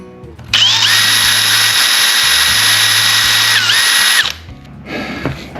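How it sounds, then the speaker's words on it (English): A power drill whines loudly and steadily for about four seconds, pitch dipping briefly near the end before it stops, followed by faint handling noise. "all you have to do is drill yourself a little hole."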